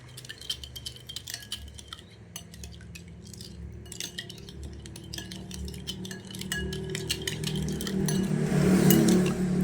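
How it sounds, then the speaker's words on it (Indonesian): A spoon repeatedly clinking and scraping against a container while MSG and shrimp paste are stirred together, producing irregular light metallic taps close by, with a rising rustling scrape toward the end. "Oke, kita aduk hingga rata"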